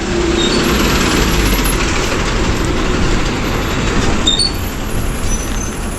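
An MSRTC bus arrives at a depot with a loud, continuous engine rumble and rolling road noise, brief hissy squeals partway through, no talking.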